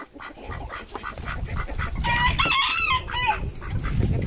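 Newly introduced chickens and a duck squawk, cluck and crow close by, with a rooster's harsh crow rising loudly midway over constant flapping and scuffling from the flock.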